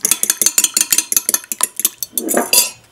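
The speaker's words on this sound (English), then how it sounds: "So you add one at a time and you whisk it up." Baby eggs beaten with a whisk in a bowl for Hong Kong egg tarts, a rapid run of close clinking taps against the bowl that ends in a brief softer swish.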